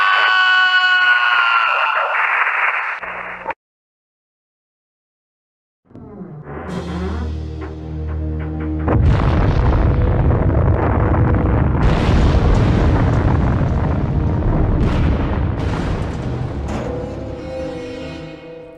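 In the video game Broken Helix, a buzzing alarm tone gives way to a brief silence, then a deep booming explosion destroys Project Broken Helix, followed by sustained rumbling blasts and debris bursts, loud and close.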